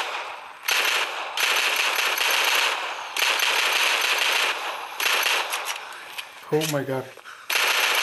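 Machine-gun fire in the zombie shooter Into The Dead 2, using twin dual-wielded guns: rapid bursts that come in several long runs separated by short pauses, with one quick excited exclamation from a player.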